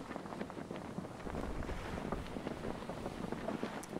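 A raft under sail in Stranded Deep, a steady rush of wind and sea with rolling water wash and buffeting gusts, continuous and fairly loud with no talk.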